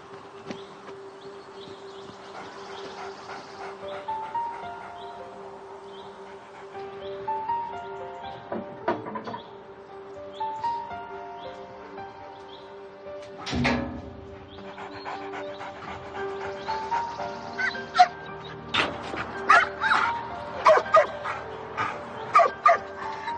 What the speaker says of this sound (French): Quand tu vas entendre le chien arriver, tu fais pas de bruit